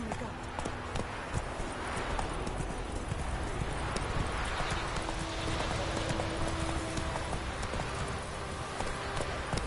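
Roach, Geralt's horse in The Witcher 3, gallops with a dense, continuous run of close hoofbeats under a steady noisy backdrop.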